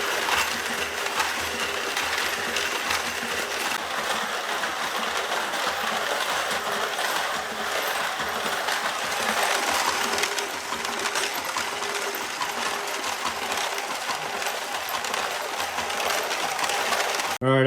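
Homemade high-capacity deburring machine for plasma table parts running steadily, a continuous dense rattling and clattering drone of parts tumbling, even in level throughout with no speech.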